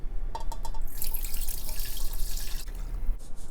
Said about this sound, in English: add the broth to the pot you will be serving from